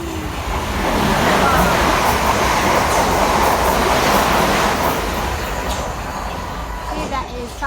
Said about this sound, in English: I hope you had a great time watching the trains passing by